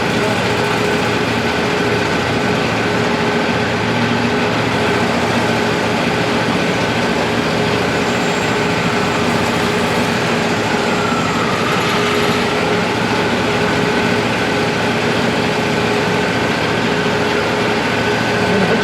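A Wood-Mizer LT40 sawmill milling yellow pine into 2x4s drones loudly and steadily, with a continuous engine hum and no breaks.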